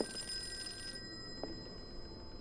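A telephone rings in the video game Call of Cthulhu, a brief bright electronic trill with sustained high tones that cut off after about a second, leaving a quiet room tone.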